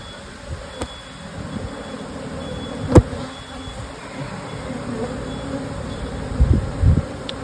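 Honey bees droning steadily around an open hive during brood chamber management, a continuous near buzz with a few brief knocks and handling bumps, no talking.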